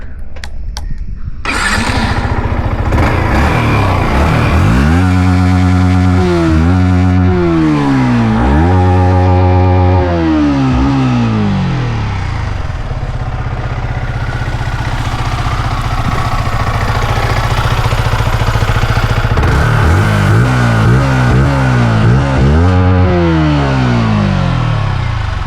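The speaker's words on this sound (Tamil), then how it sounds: "இந்த வண்டியோட எக்ஸாஸ்ட் நோட் பார்த்துடலாங்களா?" A Yamaha MT-15 motorcycle starts, then idles and is revved repeatedly, its exhaust note sweeping up and back down in several sharp blips, close, loud and steady throughout, with no speech.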